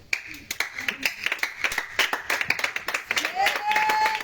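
Church congregation at an evening worship service in Grand-Bassam clapping and acclaiming Jesus, a steady rhythmic run of sharp claps from many hands, with voices calling out and rising over the final second.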